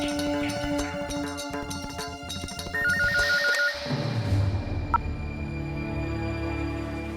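A telephone ringtone chirps in a repeating electronic pattern over a dense musical score and room ambience, then the music shifts as the ringing carries on faintly beneath it.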